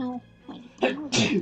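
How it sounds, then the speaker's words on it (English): A single sharp human sneeze, near and loud, ending a short burst of speech that comes just before it. "that was a sneeze"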